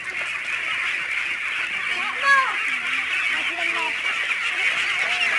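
A dense flock of ducks at a duck farm in San Agustin, with overlapping honking quacks forming a steady, loud chorus close by. A few louder calls stand out from the continuous noise.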